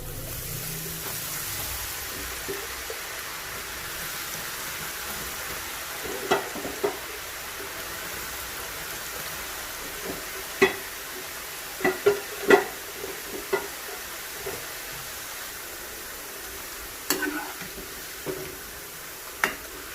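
Potato snack fries in oil over a medium flame, a soft steady sizzle with scattered crackles and occasional stirring clinks, close and fairly quiet.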